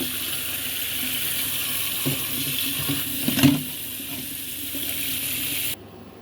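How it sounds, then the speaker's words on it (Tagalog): Tomatoes are rinsed under a running kitchen tap before being scored and boiled for spaghetti sauce. The water makes a steady, close, fairly loud gushing hiss into the sink that runs without a break, then cuts off abruptly near the end. "Hugasan muna natin yung kamatis"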